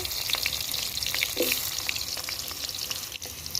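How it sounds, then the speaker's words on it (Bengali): Potatoes fry in oil in a pan during rooftop cooking. A dense, even crackling sizzle fills the whole stretch at moderate loudness, with a few light stirring knocks and no talking. "আলুগুলো সব লাল লাল করে ভেজে নিচ্ছি"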